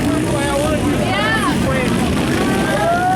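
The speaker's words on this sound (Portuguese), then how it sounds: "Amador na pista, pilotos acelerando." CG motorcycles racing on a velocross track at an amateur final in Paraú, RN, their engines rising and falling in pitch at a distance beneath a loud announcer's voice.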